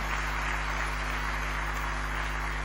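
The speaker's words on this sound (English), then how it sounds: "Please let's give them a big round of applause again." An audience at the annual town hall meeting of the Lagos State Security Trust Fund applauds in a steady, continuous wash of clapping, partly buried under a constant electrical hum.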